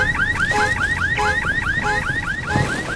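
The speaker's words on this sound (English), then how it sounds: "car alarm stressed me out" A car alarm in the video game Redfall, a loud repeating electronic whooping siren cycling rapidly and steadily, with faint low background noise underneath.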